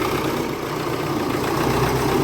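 A farm tractor's engine runs as it pulls away, giving a steady low rumble that stays close and fairly loud for a couple of seconds with no voices.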